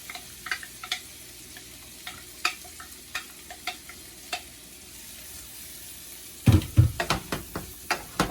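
Food frying in a pan for a Sunday brunch dish, a soft steady sizzle with light stirring clicks that swells into louder sizzling and scraping as more ingredients go in near the end; no talking.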